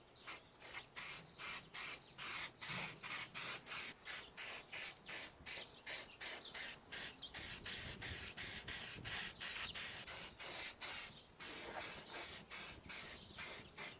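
Rapid bursts of aerosol spray painting a 1937 Westinghouse WR-212 radio chassis outdoors in a breeze, short hissing pulses repeating in quick rhythm, close and fairly loud.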